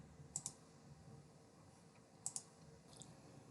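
Two pairs of crisp double mouse clicks on a computer, close and quiet, separated by about two seconds of near silence, with a faint third click at the end.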